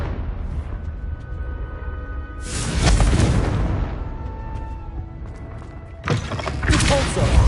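A Confringo blasting curse in Hogwarts Legacy goes off in two loud, broad bursts of blast noise a few seconds apart over a steady game background.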